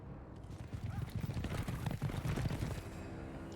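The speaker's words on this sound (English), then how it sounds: "Horse is galloping." Horse hooves gallop in the video game The Witcher 2, a fast rhythmic run of thudding beats rising in the middle and continuing steadily amid other game sounds.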